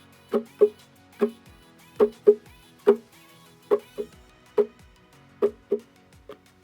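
Muted ukulele strums make short, percussive chucks in a repeating reggae-style pattern, soft and close, with no voices.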